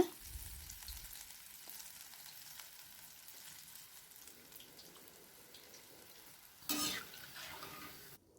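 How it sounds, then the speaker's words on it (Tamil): Kara boondi batter frying in hot oil gives a steady, fine sizzle throughout, with a brief louder burst of crackling near the end. "இப்போ இதே மாதிரியே நம்ம இருக்கிற எல்லா மாவையும் ஊற்றி எடுத்துடலாங்க."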